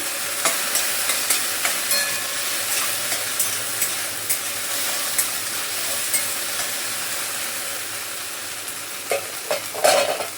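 Food is stirred in a pan on a gas stove over high flame, a steady frying hiss punctuated by regular scraping taps of a utensil, with a louder clatter near the end, close and without speech.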